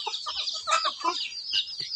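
Chickens cluck on a rural Thai farm where ducks and chickens are raised in the fields, with a scatter of short, close clucks and chatter over a busy outdoor bird backdrop.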